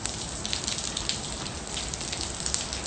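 Light rain falling outdoors, a dense steady patter of close drops with small scattered ticks throughout and no talking.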